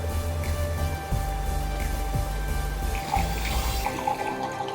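A mixer poured into a glass of vodka over ice, a continuous wet trickling stream running steadily under a constant low hum before tailing off.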